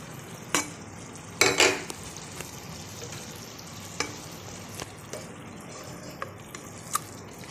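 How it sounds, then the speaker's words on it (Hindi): Tomato masala fries in a karahi with yogurt for a seekh kebab dish, a soft bubbling sizzle broken by several sharp spoon clinks and scrapes against the pan. "ये हमारा टमाटर का मसाला बन रहा है, अभी कंप्लीट नहीं बना, लेकिन हम इसमें साथ ही दही भी ऐड कर देंगे।"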